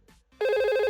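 Simulated VoIP telephone in Packet Tracer rings abruptly, a loud steady electronic trill starting after a brief quiet moment, no voices present.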